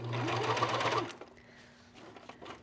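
A coverstitch machine sews a row of elastic thread to ruche fabric, giving about a second of rapid, close, whirring stitching before stopping, followed by faint handling noises.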